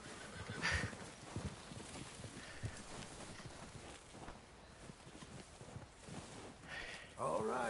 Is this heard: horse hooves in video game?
yes